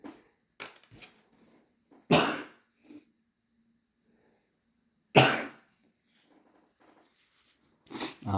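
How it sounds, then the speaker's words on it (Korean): A person with a cold allergy sneezes sharply twice at close range, each burst loud and abrupt, separated by quiet with a few soft breaths and small rustles. "재채기를 좀 했습니다."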